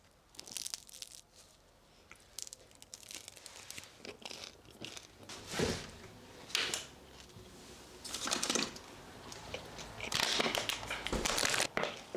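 Crispy bread crust crunched in a string of loud, crackly bites and chews, bursts coming every second or two with a short pause between, close up and with no talking.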